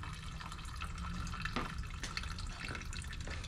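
Fuel drains steadily from a Predator 4000 generator in a continuous liquid trickle and patter, with occasional drips and faint clicks over a low background rumble.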